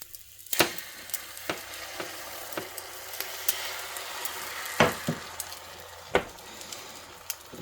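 Beaten egg sizzles in a buttered pan while a Japanese rolled omelette cooks, a soft steady frying hiss broken by a few sharp clicks and taps of utensils against the pan.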